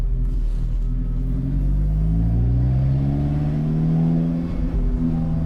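An Alfa Romeo 4C Spider engine is heard from inside while driving past a pub, giving a continuous low rumble with rising and falling engine tones as it blips through downshifts and burbles on the overrun.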